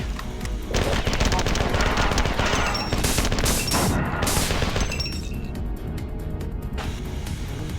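Enforcer gun firing in the sci-fi shooter Marathon 2, loud rapid automatic bursts layered with explosions and game music, the barrage continuous for several seconds.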